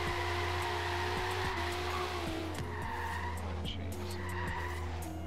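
A low-horsepower car on stock tires drifts in Forza Horizon 3, its tires squealing and skidding in a long, continuous screech over a steady engine drone, loud and close throughout.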